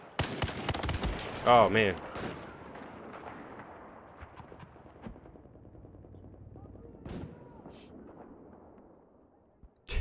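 Battlefield 4 multiplayer gunfire on PS4: a dense opening burst of rapid machine-gun shots and sharp cracks, then scattered distant reports and rumbling, with a player briefly exclaiming over the action.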